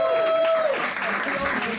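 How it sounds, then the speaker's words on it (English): A comedy club audience applauds as a stand-up comedian is introduced. A brief held tone opens the moment before dense, moderately loud clapping fills the rest. "Please give a big round of applause all the way from Germany to Kassian!"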